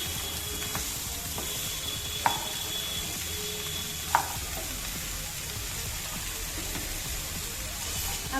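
Potatoes fry in a pan with a steady, dense sizzle and crackle that runs throughout, broken by a couple of sharp clinks of a utensil against the pan.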